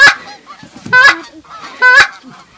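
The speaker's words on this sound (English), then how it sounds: "But as soon as we quit, all the geese and ducks started coming." Canada geese honk loudly and close as they fly in over a duck hunting spot, several sharp honks in quick bursts with short gaps between calls.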